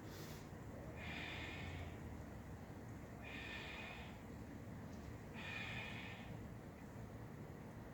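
Deep yoga breathing, three slow, airy breaths spaced evenly a couple of seconds apart, close and soft in a quiet room.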